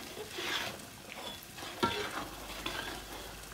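Prawns tossed and stirred into a laksa with coconut milk in a pan, giving quiet scrapes and a gentle bubbling sizzle, with one sharper utensil knock partway through, close and soft.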